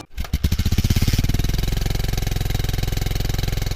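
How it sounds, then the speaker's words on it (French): A small motorcycle taxi engine revs and settles into a steady, rapid putter close by on the streets of Cotonou, Benin, its rhythmic pulsing continuing without pause like a motorbike idling or riding slowly. "ces motos qui arpentent les rues de la capitale économique au Cotonou du matin jusqu'au soir"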